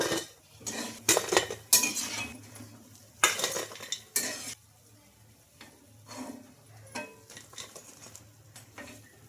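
Fried corn bondas are moved from the pan onto a plate with a metal utensil, giving several loud scraping clinks and clatters in bursts over a faint sizzle of hot oil in the background.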